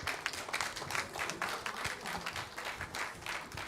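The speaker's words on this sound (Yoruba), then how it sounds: "ẹ bá wa ṣá wọn ní àtẹ́wọ́ tó rinlẹ̀" An audience at a Yoruba Day event in London claps steadily, a dense, continuous patter of many hands throughout, close and moderately loud.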